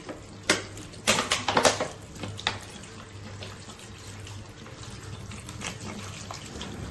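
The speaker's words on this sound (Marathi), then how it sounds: "आता आपण स्वच्छ पाण्याने धुवून घ्यायची" Running water splashes and sloshes as leafy greens are rinsed by hand, with a few louder clattering splashes early on and steady trickling afterward.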